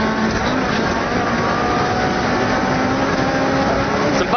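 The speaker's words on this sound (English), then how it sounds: "And the Honda engine just revs and revs." Honda rally car engine on the Manx Rally revs hard and continuously at high speed, a loud, steady roar with rising harmonics and rumbling road and wind noise, close to the microphone throughout.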